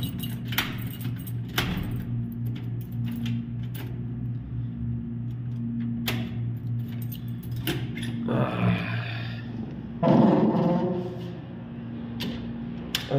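A bunch of keys jangles in a few short metallic rattles over a steady low hum indoors, with the loudest shake near the end.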